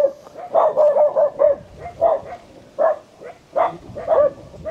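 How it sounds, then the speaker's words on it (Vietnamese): A dog barks repeatedly near a rural mountain forest home, loud, close yips and woofs in uneven bursts roughly every half second to second, with no other voices. "Nghe tiếng chó sủa"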